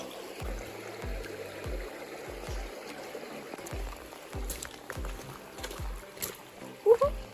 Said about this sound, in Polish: tutaj jest rzeczka